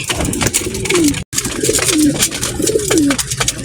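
Racing pigeons coo close by while drinking water, several rolling low coos repeating over a steady background of rustling and faint chirps.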